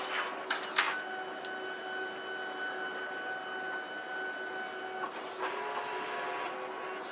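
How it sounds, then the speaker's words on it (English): A Fargo HDPii retransfer card printer, a dual-sided financial card printer, whirs steadily while printing the second side of a card. A close, continuous mechanical hum carries sustained tones, with a few clicks and clunks near the start and again around five seconds. "these retransfer printers, they actually print to this very thin transparent film, and then apply that to the card"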